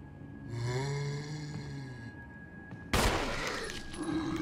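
A drawn-out low moaning tone comes first, then a single sharp, loud gunshot bursts out and rings briefly while shooting at an enemy in Resident Evil HD Remaster.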